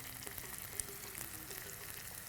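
Onions sautéing in a pan until golden on a Tamil cooking show, giving a steady, fairly quiet sizzle with faint crackles and a few light stirring taps, with no talking.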